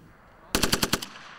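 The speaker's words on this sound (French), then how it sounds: "Le but est visé et combattu par des rafales de 4 à 6 coups." A SIG Stgw 90 (SG 550) assault rifle in Swiss Army training fires one quick burst of about six loud, evenly spaced shots that stop abruptly, with quiet before and after.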